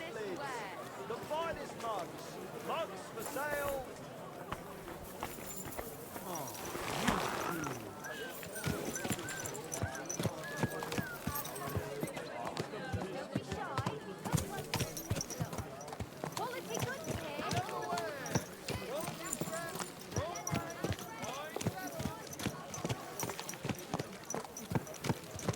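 Horse hooves clip-clop in a rapid gallop through the medieval world of Kingdom Come: Deliverance II, a steady drumming rhythm mixed with game ambience and background noise throughout.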